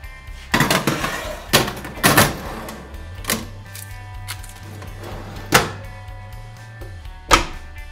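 Oven door handling as a poppy seed pie goes into a hot oven: several sharp clunks and thuds spaced across the clip, close by, with a low hum in between.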